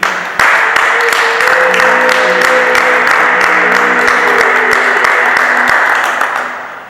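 Wedding guests applauding at a celebration, a dense burst of loud clapping that starts abruptly and holds steady for several seconds before easing off, with some voices underneath.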